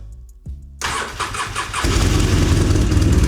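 A car engine with a recharged battery, now at about half charge, cranks briefly and then catches, rising into a loud, steady running rumble close by.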